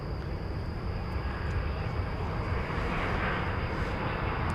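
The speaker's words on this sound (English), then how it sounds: "As we look there at runway 18 left at American flight 2227, it's about to embark on a journey destination Ontario, California." An American Airlines airliner on runway 18 Left at DFW Airport, a loud steady jet engine roar with a broad rushing hiss and a faint high whine, heard from a distance without talk.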